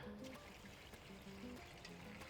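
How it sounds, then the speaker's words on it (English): Water pours into a pot holding cut-up spanner crab shells: a faint, steady splashing trickle lasting a couple of seconds, quiet and close, with no talking. "Then we add our water in."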